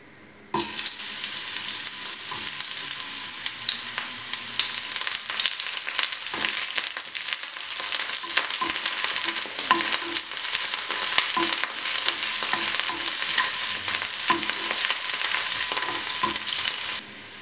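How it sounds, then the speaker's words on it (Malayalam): Sliced shallots and curry leaves frying in hot oil for a Kerala prawn curry, a loud, dense crackling sizzle that bursts in abruptly and stays intense and busy, with scattered pops, until cutting off at the end. "നമുക്കിതിലേക്ക് അരിഞ്ഞു വച്ചിരിക്കുന്ന ചുവന്നുള്ളിയും കറിവേപ്പിലയും ഇടാം."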